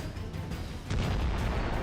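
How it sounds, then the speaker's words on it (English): A grenade thrown into a building's basement during wartime combat in Ukraine goes off as a heavy, muffled blast partway through, followed by sustained rumbling noise. "Then we see a massive explosion."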